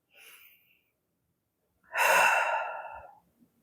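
A slow, deep breath in and out through the body, a faint short breath followed by a long, loud, airy exhale that tapers off, close and alone with no talking.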